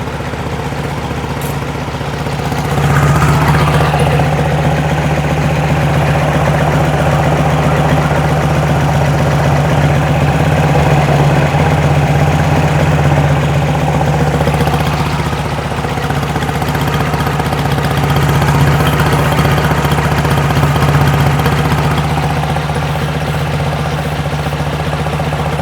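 A 1972 VW Beetle with a dual-carb engine idles steadily up close, a loud, even low rumble with a constant hum that swells slightly at times and carries on without talk.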